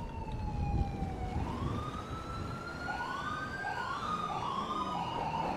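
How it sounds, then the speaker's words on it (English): Police sirens wail from responding units in GTA 5, several overlapping sweeping tones rising and falling, moderately distant and layered as more cars approach. "I don't know why they're responding with lights and sirens."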